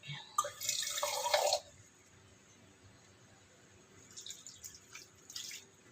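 A brief stream of water pours into a cooking pot of ginataang tulingan with winged beans, then quiet, followed by a few softer splashes and trickles.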